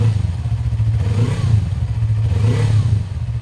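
The engine of a Bristol Assassin R400 motorcycle revs close by, with two rising-and-falling throttle blips over a steady low idle rumble.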